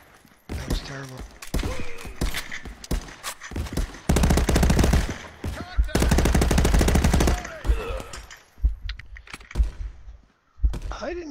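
Rapid automatic gunfire from the VR shooter Contractors on Meta Quest, sounding in loud sustained bursts with short gaps, with players talking over and between the shots.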